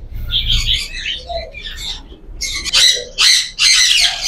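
Fancy and imported breeder birds, including green Fischer's and violet personata lovebird pairs, in a bird shop in Multan give loud, sharp squawks and chirps in uneven bursts, close by, growing denser toward the end.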